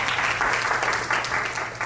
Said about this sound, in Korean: 박수 부탁해요.